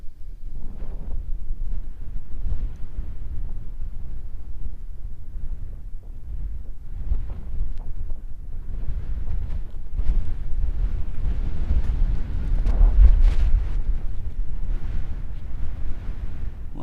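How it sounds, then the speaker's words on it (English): Strong wind blows steadily outdoors on an open savanna where giraffes graze, a continuous low roar buffeting the microphone with gusts swelling and easing over the whole stretch, with no voices. "the wind is definitely picking up a bit"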